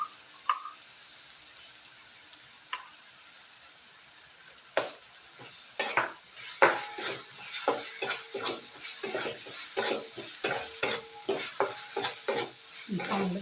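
Onion and tomato paste frying in oil for Maharashtrian sukha mutton. A soft sizzle runs under a quiet start, then busy, close scraping and clattering of a spoon stirring in the pan builds into a rapid, uneven rhythm.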